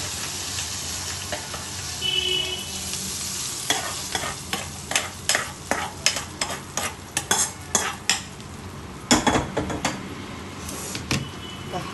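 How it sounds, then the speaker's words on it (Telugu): Hot tempering goes into tomato pickle. A faint sizzle leads into a run of sharp, close spoon scrapes and clinks against the container, followed by a few louder knocks near the end. "ఇప్పుడు ఈ తాలింపుని పచ్చట్లో వేసేసుకుందాం"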